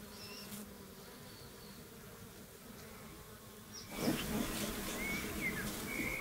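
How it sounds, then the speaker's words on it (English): Faint buzzing of many bees swarming outdoors around a pine tree, growing a little louder toward the end, with a few thin bird chirps in the background. "you see the bees all going to a pine tree"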